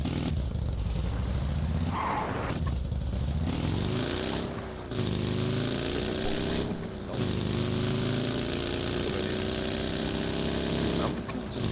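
A vehicle engine drones steadily through its exhaust on a desert map in a video game, revving and shifting in pitch with brief dips, loud and continuous throughout.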